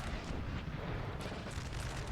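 Cannon fire from a Napoleonic battle in the Total War strategy game rumbles as deep, overlapping booms within a steady low roar, fairly faint and distant, with no voices.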